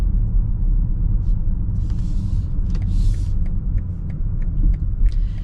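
A 2026 BMW X5 M60i engine rumbles low and steady from inside the cabin, a muted, insulated drone with faint clicks and ticks above it, no talk.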